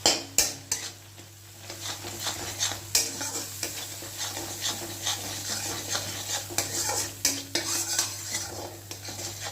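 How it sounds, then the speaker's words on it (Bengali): Masala with turmeric and salt stir-fried in a pan: close, repeated scraping and clinking of a spatula over a soft sizzle, in an irregular stirring rhythm. "ভালো করে কষিয়ে নিতে হবে মশলাটাকে"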